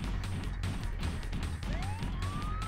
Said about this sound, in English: Oh, I hear some police sirens.